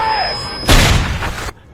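A single loud, booming gunshot in a film as a train conductor fires a pistol, a sudden blast that decays over about a second before cutting off.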